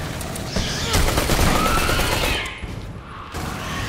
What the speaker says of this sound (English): I have an auto machine pistol now